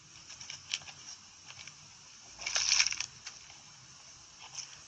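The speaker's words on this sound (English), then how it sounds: "The bottle is now filled about halfway with airsoft pellets" Airsoft pellets pour into a plastic PET bottle in a brief rattling burst near the middle, surrounded by faint scattered ticks and clicks at close range.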